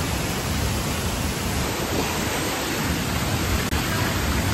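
Majayjay Falls, a waterfall, roaring as a dense, unbroken wash of falling water, loud and steady throughout, with no voices over it.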